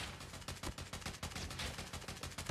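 Odin rifle firing in Call of Duty Mobile ranked multiplayer, a rapid automatic burst of shots with a regular quick rhythm lasting the whole stretch, fairly faint and without talk.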